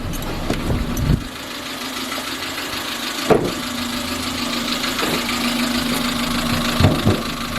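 A Chevrolet Matiz engine idles steadily up close after an engine rebuild, with a slightly rough, tappy ticking running through it, plus a couple of brief clunks.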